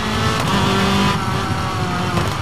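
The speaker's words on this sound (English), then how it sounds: "the most obvious improvement being the engine noise of the cars" A rally car engine in the video game WRC 3 roars loudly and continuously, revving with shifting pitch as it races along, no voices.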